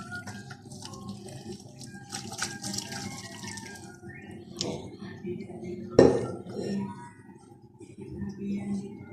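Chicken soup broth is poured through a strainer into a pot, with trickling liquid and clinks of metal cookware, under a woman's speech.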